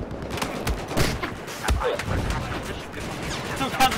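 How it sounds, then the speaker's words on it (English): Pistol fire in Battlefield 4, a run of fairly slow, repeated gunshots spaced irregularly across the stretch, loud and close, with other battlefield gunfire and a voice talking underneath. "Bad thing about pistol, he doesn't fire very fast. I was like spamming the click button."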